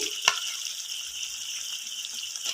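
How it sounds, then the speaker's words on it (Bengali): Fried vegetables added to cooked spices in a pan for mixed veg paneer give a steady, close sizzle with a brief clink near the start. "আমি এবার ভেজে রাখা সবজিগুলো দিয়ে দেবো, ভেজে রাখা সবজিগুলো দিয়ে দিচ্ছি"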